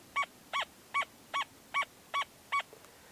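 An XP Deus II metal detector in pitch mode sounding over a 6-inch target, seven evenly spaced beeps of steady pitch, close and clear against quiet.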